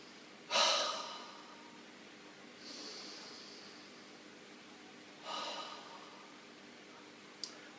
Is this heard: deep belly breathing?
yes